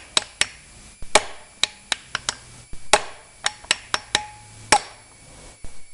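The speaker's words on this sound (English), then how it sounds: "It's going to give it a couple of good whacks." A core plug being hammered into place, a series of sharp metallic whacks at uneven intervals, some in quick pairs, close and crisp with short ringing decays and no talk.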